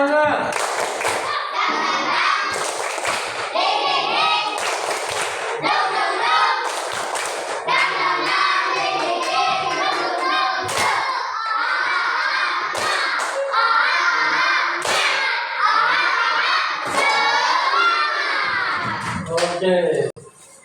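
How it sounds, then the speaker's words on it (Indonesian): A classroom of children does a rhythmic clap-and-chant routine, the tepuk semangat, in an Islamic history lesson. Groups of sharp, loud claps alternate with shouted chanting voices in a steady, repeating pattern. "Tepuk semangat dulu"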